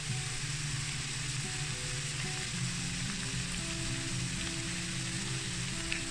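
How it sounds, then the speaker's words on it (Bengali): Chicken pieces frying with browned onions and bay leaves in a karahi pan, a steady dense sizzle with a low crackling bed running continuously and evenly throughout, no talking. "চিকেনটা পেঁয়াজের সাথে একটু ভেজে নিব"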